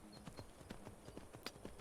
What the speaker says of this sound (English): think maybe I'm just going to ride the unicorn.